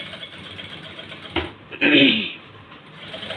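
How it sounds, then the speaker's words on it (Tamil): A sewing machine stitches a lining piece during tailoring work, running in two short, close whirring bursts separated by quiet gaps. "இதை வந்து அப்படியே பிரட்டி விட்டுட்டு படிமான தையல் போட்டுட்ருக்கேன்"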